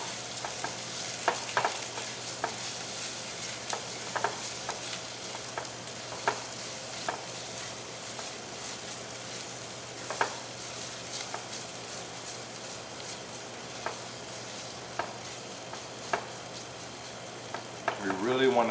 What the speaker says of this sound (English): We're going to mix in our tomato paste, give it time to start to break down and caramelize.